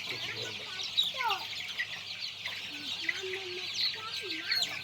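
Country chickens, about a month old, cluck and chirp continuously nearby, a busy flock with overlapping calls and a few louder squawks, while faint voices murmur underneath.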